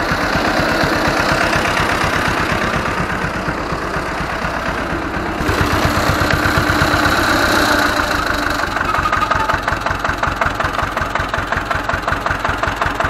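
An Ursus C-325 tractor's diesel engine runs nearby with a loud, even, rapid chugging pulse, the beat shifting slightly midway as the revs change, with no talk over it.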